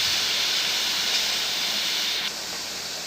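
Banana stem and potato fry in a kadai with a constant loud sizzle while being stirred, the hiss easing slightly near the end, and no talking.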